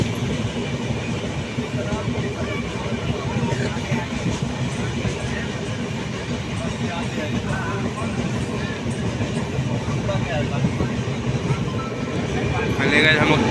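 A passenger train runs toward Chopan station on a route from Jharkhand to Delhi, its steady rumble and faint clickety-clack rolling on continuously with people talking over it.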